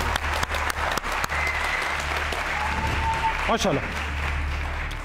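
Studio audience applauding on a live Iranian TV game show, steady dense clapping throughout with a host's voice briefly speaking over it.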